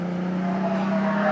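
Racing car, a 1970s road sports machine such as a Datsun 240Z or Porsche 911, roaring past on the pit straight at Cadwell Park circuit, a steady loud engine drone sustained throughout with no speech.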